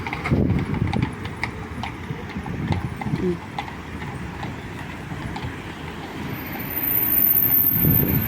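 Horse hooves clip-clopping on a street in Kraków as a royal carriage passes, steady close clopping over city traffic noise and faint voices.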